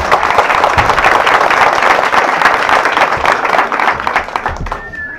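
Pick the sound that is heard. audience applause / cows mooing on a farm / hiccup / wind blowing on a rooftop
audience applause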